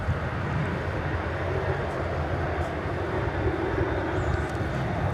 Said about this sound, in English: touching down just as we speak from Atlanta, Georgia, an Airbus A321